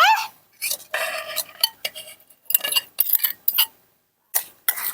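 Clinking, scraping stirs of a utensil against a metal pot as sliced carambola, water and seasonings are mixed for a Thai home-cooked dish; a series of close, bright clatters in short bursts with quiet gaps, no talking.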